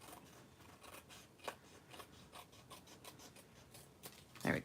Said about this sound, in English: I gotta trim this just a tad because it's right there showing. So we'll just cut that off.